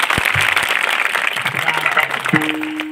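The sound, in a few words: audience clapping at a kirtan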